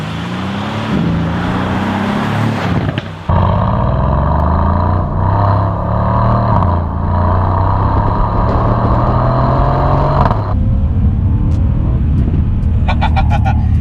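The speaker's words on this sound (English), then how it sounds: "How Mercedes have made a 4-litre twin turbocharged V8 sound this good, I don't know." A Mercedes C63 AMG 4-litre twin-turbo V8 revs hard and loud up close, rising through gears with a deep roar, then drops to a rumbling idle with crackling pops.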